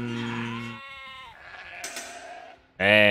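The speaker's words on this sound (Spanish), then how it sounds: "A Goku se trae un par de ovejas, que son suyas." Sheep in Age of Empires bleat in short, nasal, wavering cries, several in a row, with a louder bleat at the end, close and clear.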